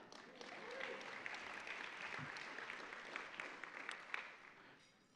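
Audience clapping at a women's leadership luncheon, a fairly faint, sustained patter of many hands with scattered sharper claps, heard in a room from some distance and tapering off at the end.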